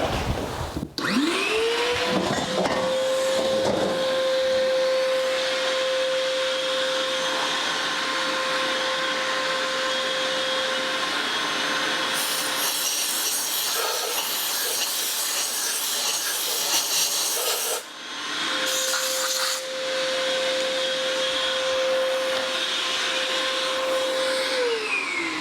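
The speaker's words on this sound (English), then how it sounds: "I'll vacuum it out and blow it out." Shop vacuum cleaning out the valve seat area of a GM 5.3 engine cylinder head during an overhaul: a loud, steady whining hum that starts abruptly, runs continuously with a short dip, then whines on again.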